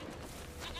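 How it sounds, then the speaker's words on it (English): A goat bleats in The Witcher 3, a faint, short, wavering cry heard alone against low background. "the goat is this way, Geralt"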